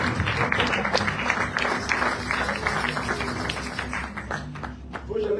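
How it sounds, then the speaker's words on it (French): A church congregation bursts into sustained, dense applause during a Sunday service sermon, a steady wash of many hands clapping at once that keeps going throughout. "Est-ce que vous pouvez applaudir pour la gloire du Seigneur?"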